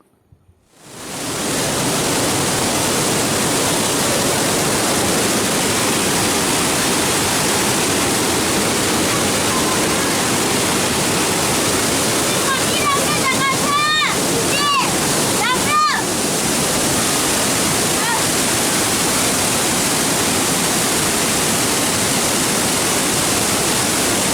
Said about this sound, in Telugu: నిజానికి ఎలిఫెంట్ ఫాల్స్ జలపాతం